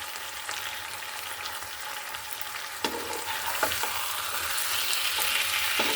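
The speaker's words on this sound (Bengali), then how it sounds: "একটু উল্টা পাল্টা করে দিতে হবে মাছের গায়ে যেন মশলাটা লেগে যায়" Fish with radish and spices fries in a pan with a continuous crackling sizzle. Pieces are turned now and then with sharp clinks and scrapes, and the sizzle grows slightly louder toward the end.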